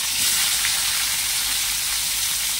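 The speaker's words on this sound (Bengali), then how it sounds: "কই মাছটা যতক্ষণে ভাজা হচ্ছে ভালো করে" Loud, steady sizzle of koi fish (climbing perch) frying in hot oil, a dense bright hiss close up with no pauses or talking.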